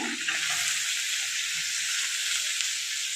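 Chopped onion, garlic and green chilli fry in hot oil in a pan, making a loud, even, hissing sizzle that holds steady throughout. A faint stir is heard near the start. No voices.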